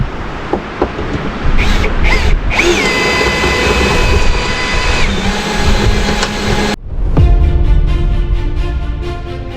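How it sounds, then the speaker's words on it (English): A power drill bores out pop rivets while repairing a cast net frame, loud whining bursts near the mic with rising and falling pitch, brief pauses between passes and a final sustained run. "we'll drill these pop rivets out and we'll rivet the new one in over here"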